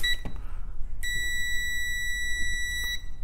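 A multimeter in continuity mode, used for iPhone logic board repair, sounds a steady high-pitched electronic tone that starts sharply about a third of the way in and holds, preceded by a brief short beep, with no talking.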